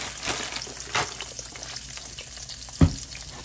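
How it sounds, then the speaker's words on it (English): Steak fries deep fry in oil in a pan, giving a steady bubbling sizzle with a few soft stir strokes and one sharp knock near the end, with no voices. "We're gonna sort of deep fry them right in the same pan"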